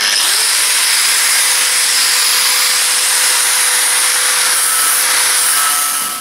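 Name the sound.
angle grinder cutting metal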